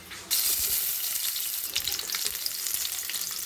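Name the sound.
onions frying in oil for tempering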